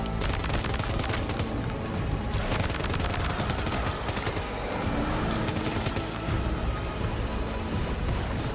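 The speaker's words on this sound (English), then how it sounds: "let's start shooting" Sustained gunfire from the video game Death Stranding 2, dense bursts of rapid shots rattling continuously over a rumbling combat background, loud and close with no talking.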